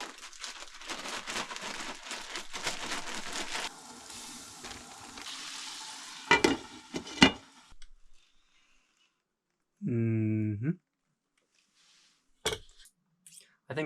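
Skinned pike fillets frying in a pan at an Alaska cabin, with a steady close sizzle for several seconds, then scraping clatter and silence broken by a short tonal sound and a few knocks.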